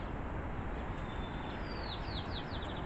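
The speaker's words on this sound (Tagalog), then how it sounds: "pati yung mga huni ng ibon" Birds sing faintly in a sunny, breezy rooftop garden, a few rising chirps and short trills coming in late over a steady wash of wind.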